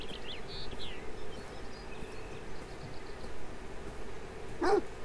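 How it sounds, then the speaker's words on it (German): A dog in the Beyond Eyes video game gives one short, sharp bark near the end, set against a quiet bed of ambient game noise and faint birdlike chirps. "Wie Hunde in diesem Spiel auch alle böse sind."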